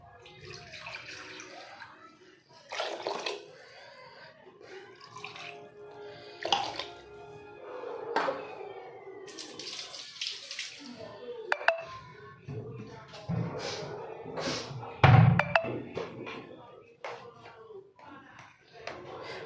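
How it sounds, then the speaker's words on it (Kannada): Water is poured from close by into sambar masala while cooking Avarekayi sambar, heard as several short splashing bursts between quiet stretches as someone talks. "ಇದರಲ್ಲಿ ನಿಮಗೆ ನೀರು ಎಷ್ಟು ಬೇಕೋ ಅಷ್ಟು ಹಾಕ್ಕೊಳ್ಳಿ"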